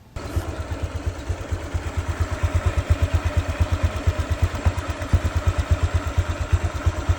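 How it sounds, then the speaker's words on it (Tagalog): A stock Honda Click scooter idles close by, its engine a steady rapid putter of even low pulses that holds smooth and quiet throughout. "Pami pakinggan nyo na lang yung tunog ng motor oh,"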